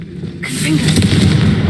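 A Confringo fire blast spell is cast inside a closed mine tomb in Hogwarts Legacy, a sudden loud whooshing burst that hits after a brief quiet and rumbles on for over a second.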